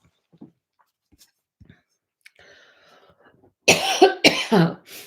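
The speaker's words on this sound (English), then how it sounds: "I'm sure this is going well on the stream, my coughing" After some quiet rustling and faint sounds, a person coughs loudly several times in a close, harsh burst.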